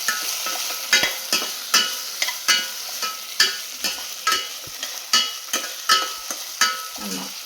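Salt and garlic sauté in a pan for garlic tamarind curry, with a spoon scraping and stirring in about a dozen regular strokes over a soft continuous sizzle, close up and alone.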